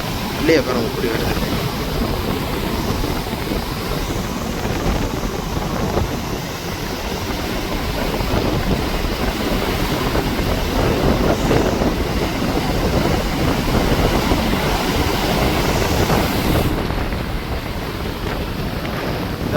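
Stormy seas pound the shoreline at Jaffna in a loud, unbroken wash of surf, with strong wind rumbling across the microphone and slow swells of intensity throughout.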